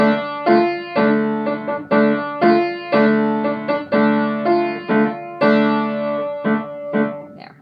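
Solo piano plays the final section of "Land of the Silver Birch", a series of struck chords in a steady rhythm with each attack decaying before the next, heard close and alone with no voices.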